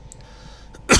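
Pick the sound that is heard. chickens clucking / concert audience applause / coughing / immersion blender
coughing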